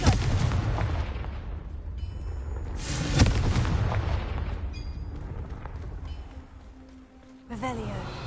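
Confringo blasting spell in Hogwarts Legacy on PS5, a booming burst that rumbles out over continuous game background noise, followed by a second softer impact near the end, with a voice speaking.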